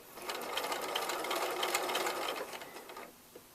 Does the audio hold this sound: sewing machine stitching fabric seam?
yes